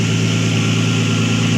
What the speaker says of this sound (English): the car is idling better than it was before